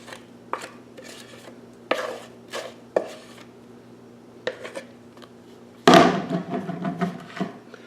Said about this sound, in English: we're going to take our yellow cake mix and we're just going to dump it right into there